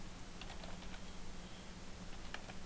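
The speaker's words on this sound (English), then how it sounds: "if we type in" Typing on a computer keyboard, a run of soft, quick key taps at an uneven pace, close but quiet over a low steady hum, with no talk.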